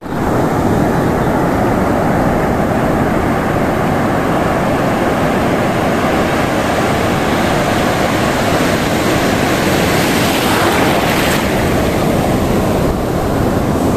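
A continuous loud rush of sea surf fills the whole stretch, with wind battering the microphone and no voices.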